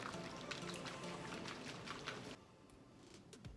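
Hydroponic nutrient solution sloshing as it is shaken in a container, a steady wet rattling churn that stops abruptly partway, leaving a quieter tail.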